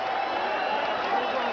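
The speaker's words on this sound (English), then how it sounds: "Crowd here in Phoenix on Easter Sunday standing on its feet and applauding in appreciation of one of the great rounds we've seen this year" Boxing crowd in Phoenix on Easter Sunday standing and applauding between rounds, a dense, steady wash of clapping and cheering that fills the arena without a break.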